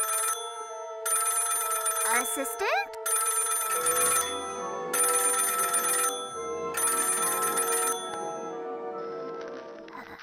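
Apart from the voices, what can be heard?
telephone ringing in a cartoon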